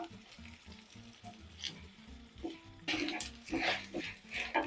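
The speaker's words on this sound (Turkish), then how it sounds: "Hemen pirinçlerimizi alıp pirinçler birbirine yapışana kadar iyice kavuracağım" Rice grains toasting in a hot pan for chicken and chickpea pilaf, a steady close sizzle with scraping stirs and patter of grains, growing louder and busier toward the end.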